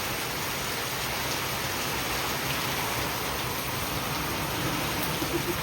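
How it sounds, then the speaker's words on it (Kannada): Heavy rain pours down steadily at night around a leaking house, a dense, loud hiss of falling water with no gaps and no voices. "ಮಳೆ ಭಾಳ ಜೋರ ಐತಿ."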